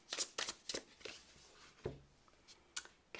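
Astrology cards being shuffled by hand: a few quick riffling bursts close up at the start, then scattered softer card flicks and taps in a quiet room.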